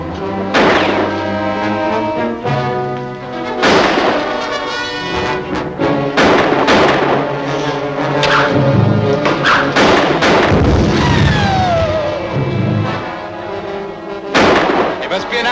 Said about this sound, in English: Must be an African hand grenade.